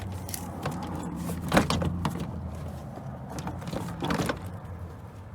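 Plastic trim clips pop loose as a door panel is pried off a 2003 Pontiac Vibe, a few sharp snaps and rattles near the mic over a low steady hum.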